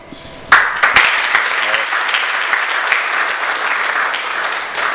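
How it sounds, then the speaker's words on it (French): Applause for a team at a solar training certificate ceremony in Thiès, starting suddenly and building into dense, sustained clapping from a crowd, fairly close and loud. "L'équipe des BST, un grand applaudissement à vous"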